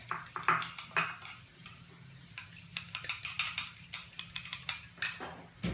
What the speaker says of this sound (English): next you add your Parmesan cheese. Add 5 of the shakes, you call it? Yeah. And then you whisk.